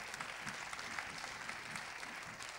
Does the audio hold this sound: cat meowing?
no